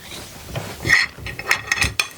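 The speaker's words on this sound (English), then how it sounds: "You access to the nut with a 22mm spanner." A 22mm spanner working a motorcycle suspension nut on a Honda Transalp or Dominator lowering kit, giving a few close, irregular metallic clicks and ratcheting scrapes over about two seconds.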